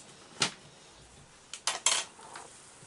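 A spoon stirs a Harry Potter-inspired Halloween drink made with beer, giving one sharp clink, then a quick cluster of three bright clinks against the glass and a faint final tap, close and otherwise quiet.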